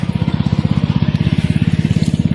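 A mini tractor plows weeds between cassava rows, its small engine chugging in a fast, even, loud pulse close by with a light crackle of soil and plants.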